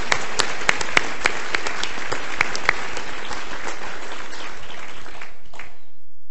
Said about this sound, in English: big round of applause for Mary Mancini.